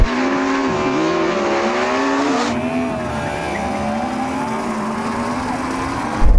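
Ferrari SF90, Porsche Taycan Turbo GT and Yamaha R1M launching in a drag race, a loud steady engine and drivetrain roar with a pitch shift partway through, heard close and continuous without talk.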